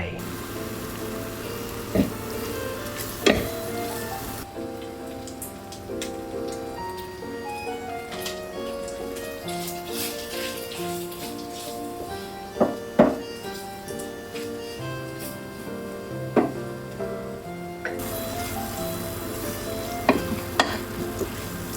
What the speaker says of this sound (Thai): เรานำเส้นสปาเกตตี้ใส่ลงไปนะครับแล้วก็ คลุกเขาให้เข้ากัน